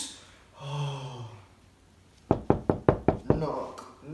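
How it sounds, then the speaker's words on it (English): Knocking on a door in a staged Macbeth scene: about six sharp, evenly spaced raps close by, following a breathy voiced sigh or groan. "knock, knock, knock, who's there?"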